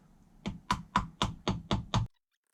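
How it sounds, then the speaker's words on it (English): Seven sharp taps in a quick, even rhythm, a pointed cross-head screwdriver hammered into a camshaft seal on an MGF VVC engine, close by, then silence. "I'm just going to tap in a really pointy cross-headed screwdriver."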